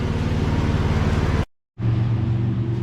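A 2011 Ford Edge engine idles steadily with a low rumbling hum, then cuts out abruptly into silence before a similar steady engine-like drone resumes for the rest of the clip.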